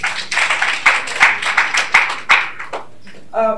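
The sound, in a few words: audience applause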